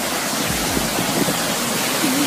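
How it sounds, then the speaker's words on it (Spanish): A waterfall at Barbanzón lake gives a steady, even broadband rush of falling water throughout, with a faint voice briefly audible underneath. "Aquí hay la cascada del lago."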